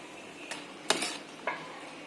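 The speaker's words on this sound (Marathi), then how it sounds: "ती फक्त आता मॅश करणार आहोत आपण डाळ वरणाची" Cooked dal being mashed in a pot for an aamras thali: a few soft, brief scrapes and clinks spaced apart over a quiet background.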